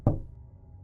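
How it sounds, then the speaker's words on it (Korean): A single sharp knock on a unisex restroom door inside a convenience store, close and solid, followed by a short fading resonance and quiet room tone. "노크했더니"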